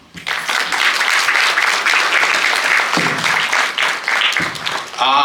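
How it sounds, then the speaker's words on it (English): A crowd applauds steadily for several seconds, dense and sustained, with a voice starting up as the clapping fades at the end. "So put a round of applause for everyone"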